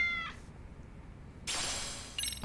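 A cat meows in the video game Lost Judgment, a short clear call at the start followed by a second meow near the end, with a quiet background in between.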